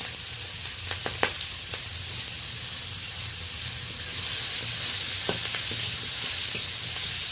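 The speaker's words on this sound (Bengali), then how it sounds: "পেঁয়াজ কাঁচা লঙ্কা ফোড়নের সাথে ভালোভাবে মিশিয়ে নিচ্ছি।" Onion and torn green chilies fry in hot oil with tempering spices, a steady, moderately quiet sizzling hiss with a few brief stirring clicks, and the hiss swells slightly toward the end.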